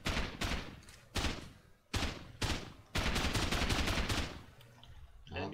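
Bursts of automatic gunfire in the video game Rust shooting at doors during a raid, several loud rapid volleys separated by brief pauses, with a long sustained burst near the end.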